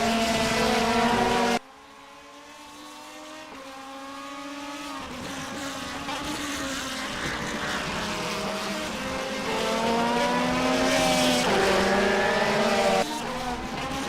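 A DTM race car at Spa-Francorchamps screams in an onboard view, its engine note rising and falling through gear changes, loud and close, with a sharp cut partway through.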